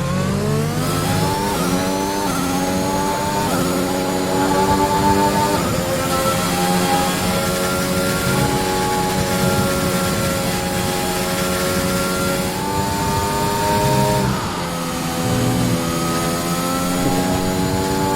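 Formula 1 car engine on track at Spa in the F1 2021 video game, a loud, continuous high-pitched whine rising through the gears with sweeping pitch climbs and brief dips on shifts, heard alone.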